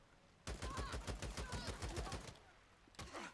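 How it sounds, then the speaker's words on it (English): A dense volley of close gunshots from the video game Days Gone, a rapid string of sharp cracks lasting about two seconds, then a pause and one more short burst. "Did I really miss all those shots?"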